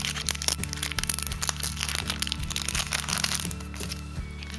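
A Pokémon card pack's foil wrapper is crinkled and torn open at close range, with steady crackling over a constant low hum in the background.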